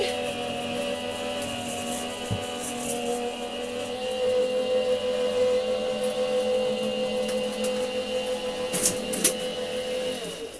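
A crafting machine feeding paper through with a steady motorized hum and whir that runs throughout, close and moderately loud, with a couple of faint clicks near the end.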